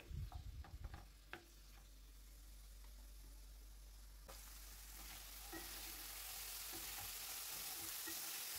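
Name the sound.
meat frying in oil in a pan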